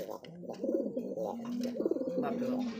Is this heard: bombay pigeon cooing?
yes